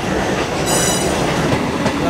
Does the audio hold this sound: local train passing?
yes